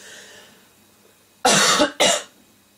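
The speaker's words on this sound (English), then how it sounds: "having some kind of weird coughing fit" Two harsh coughs in quick succession, close and loud, after a moment of quiet room hiss.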